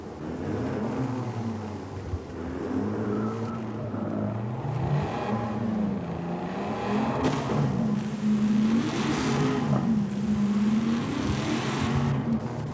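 A small rally-style car engine in Forza 5 drones and revs steadily, its pitch rising and falling in long sweeps, loud and close with no other sounds over it.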